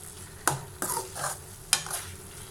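Squid masala cooking on a low flame, with a soft background sizzle broken by a few sharp scrapes and taps of a spoon stirring the pan.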